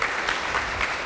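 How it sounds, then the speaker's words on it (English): Brief burst of audience applause at a public lecture on Santa Clara County growth and planning, many hands clapping together in an even, sustained patter. "Please give him a big round of applause"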